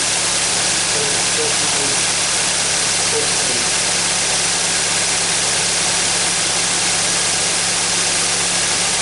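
A car engine idling, a steady loud drone with a constant low hum and broadband hiss throughout, unchanging and without pauses.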